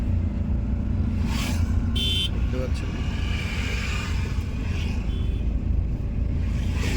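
A car drives along a road and overtakes a toto, its low engine and tyre rumble steady throughout while a person talks and brief higher-pitched hisses pass.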